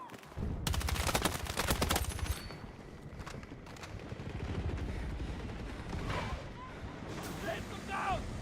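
Rapid weapon fire in Battlefield 6, a loud automatic burst up front followed by scattered distant shots and rumbling, with players talking over it.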